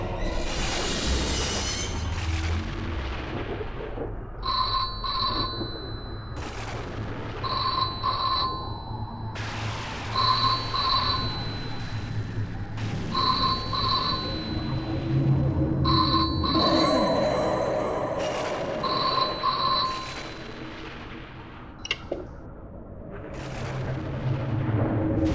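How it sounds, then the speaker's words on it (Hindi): A telephone rings late at night, a repeating two-tone bell sounding in regular bursts about every three seconds, moderately loud over a rumbling, tense background with no talk. "लगता है फोन की घंटी बज रही है।"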